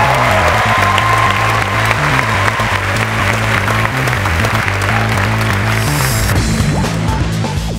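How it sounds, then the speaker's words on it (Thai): Audience at a Thai innovation awards show breaks into applause over loud pulsing event music, claps blending with the steady beat and a few sharp hits near the end. "ขอเสียงปรบมือได้ครั้งนึงครับ"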